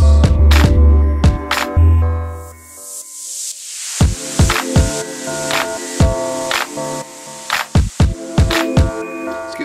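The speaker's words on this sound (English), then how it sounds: "A nice spacey effect" A spacey Omnisphere synth transition sweep washes downward over a sustained chordal pad, then gives way to punchy, rhythmic drum hits and layered synths as a track builds into its chorus.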